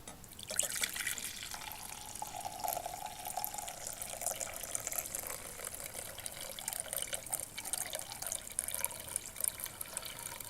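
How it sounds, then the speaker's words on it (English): Liquid from a home gold refining solution is poured off in a thin, steady trickle, continuous splashing and dribbling for about ten seconds, close and fairly quiet. "I'm going to carefully pour off just the top portion of this"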